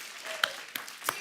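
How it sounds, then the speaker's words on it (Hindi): Applause from a studio audience at a comedy talk show, soft and somewhat distant, with a few sharper claps standing out over a steady patter. "इसके लिए पहले तालियां होनी चाहिए।"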